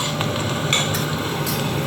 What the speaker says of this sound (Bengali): পেঁয়াজ এইসব দিয়ে একটু কষবো।